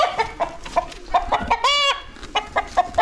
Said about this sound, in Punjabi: ਮੁਰਗਾ ਯਾਰ